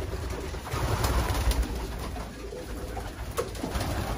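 Pigeons in a loft coo repeatedly, low soft calls close by over faint background noise.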